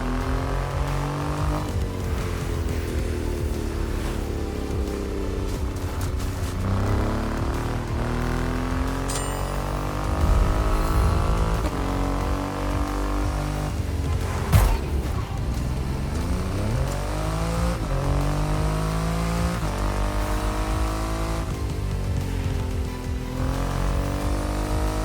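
Triumph Rocket 3 motorcycle with a 2.5-liter engine in The Crew Motorfest, its deep engine note droning steadily with shifting revs and a few louder surges, close and continuous throughout.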